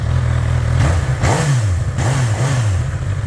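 A Honda engine revving under throttle, a loud close drone that rises and falls in several quick blips above a steady idle.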